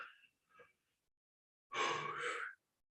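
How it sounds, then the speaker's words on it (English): A person yawns once close to the microphone, a breathy drawn-out exhale of under a second, preceded by a couple of faint soft breaths. "It was another yawn."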